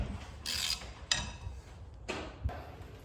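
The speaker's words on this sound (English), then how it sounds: "So we're gonna take the sprocket off the old damper here." Metallic clicks and ratcheting clanks come from a motorcycle sprocket being removed from an old damper during a tire change. There are four separate bursts, close and moderately loud, with brief pauses between them.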